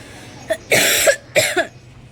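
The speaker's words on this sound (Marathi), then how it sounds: "खोकला कशामुळे होतो माहीत नाही" Two bursts of harsh coughing, each a quick cluster of hacks, close and fairly loud with quiet between.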